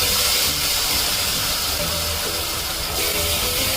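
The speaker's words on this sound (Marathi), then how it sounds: "आता यावर आपण वाटण टाकूया" Ground masala paste dropped into hot oil in a pan, sizzling with a steady, loud, hissing crackle throughout for a traditional Maharashtrian vegetable dish.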